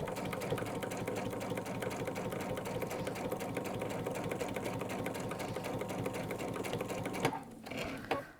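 A sewing machine stitches the welt pocket of a Tamarack jacket, a close, fast steady mechanical rattle running continuously, then briefly stopping and restarting near the end.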